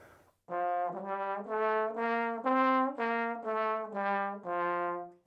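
A trombone section sustains a series of loud harmonic-rich notes with poor slide technique, each swelling and smearing into the next with sloppy, uneven transitions and scooped pitch changes.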